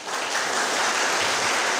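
Police farewell and welcome ceremony crowd breaking into applause, a dense, loud wash of many hands clapping that swells quickly and holds steady throughout.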